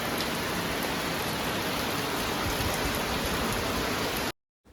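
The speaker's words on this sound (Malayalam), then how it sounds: "നല്ല പെരും മഴ പെയ്തിട്ടുണ്ടായിരുന്നു." Heavy rain pours steadily, a dense, loud, even hiss that fills the whole recording, then cuts off abruptly just before the end.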